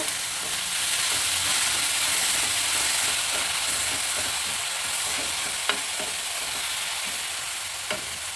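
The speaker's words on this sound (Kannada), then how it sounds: "ಮೂಲಂಗಿ ಹಾಕಿದ್ಮೇಲೆ ಒಂದು ನಿಮಿಷ ಫ್ರೈ ಮಾಡಿದ್ರೆ ಸಾಕು ಅಷ್ಟು ಬೆಂದರೆ ಸಾಕು" Sliced radish frying in a pan gives a steady, loud, broad sizzle and hiss that holds throughout, with a couple of faint clicks of stirring near the end and no voices.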